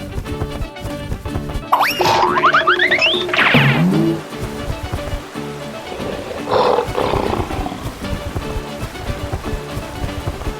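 A lion roars loudly in a short burst, its call sweeping through a wide range before trailing off, followed by a second, fainter roar, all set against a busy musical backdrop in a children's animal cartoon.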